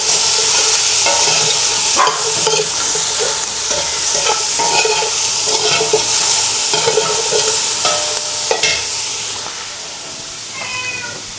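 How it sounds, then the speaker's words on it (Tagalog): Chicken sautés in a pan until brown for chicken sopas, with loud continuous sizzling and repeated scraping stirs; a cat meows briefly near the end. "So guys, igisa lang natin yung ating chicken until mag-brownish na yung chicken."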